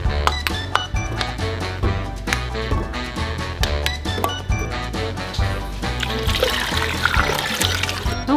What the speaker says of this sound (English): Now we've put them in the hot canner.